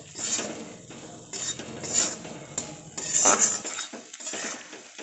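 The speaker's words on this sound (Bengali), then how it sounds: "আলুটাও সব মশলার সাথে খুব ভালোভাবে কষিয়ে নেব" A spoon scrapes and clinks against a pan as fried potatoes are stirred with spices for a Bengali rui fish curry, irregular metallic knocks and soft shuffling, fairly quiet and close.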